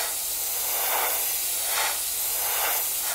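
Spray gun hissing paint onto a Phantom scale model, a close, loud continuous hiss that swells and eases in several bursts without speech.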